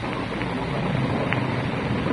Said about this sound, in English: Rain's starting, man. Windy.